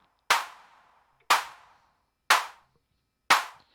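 Four regular handclap hits from a Weston Precision Audio AD110 analog drum synthesizer with a cloudy reverb, each a bright snap fading into a hazy wash before the next one lands a second later.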